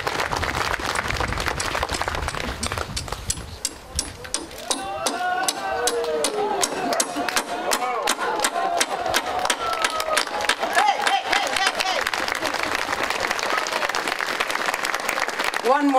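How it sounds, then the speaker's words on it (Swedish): A crowd applauds at an inauguration ceremony with the crown princess present, dense clapping that builds early and carries on for the whole stretch, while voices speak over it and some tonal sounds rise mid-way. "Så håll andan och applåderna. Okej, den tjuvstartar."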